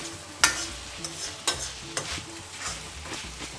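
Lemon rice stirred and fried in a wide pan, soft continuous sizzling broken by a few scraping strokes of the spoon, close and moderately loud with no talking.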